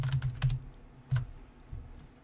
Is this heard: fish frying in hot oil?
no